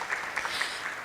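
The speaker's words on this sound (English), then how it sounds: "A round of applause for him" A short burst of applause from a crowd, steady, soft clapping with no voices over it.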